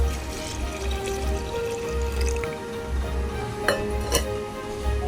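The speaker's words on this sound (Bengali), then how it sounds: "এবার জল দিয়ে দেব।" Water poured into a pot of red masoor lentils with papaya, a steady soft rushing stream with faint drips and a low rumble, at moderate level and without talk.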